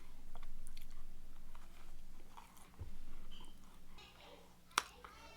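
Chewing a crunchy glazed cake donut, close-up soft crunching and mastication with a sharp bite click near the end, quiet and intimate with no talk.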